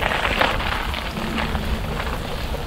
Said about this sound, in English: Oh, it just started to rain.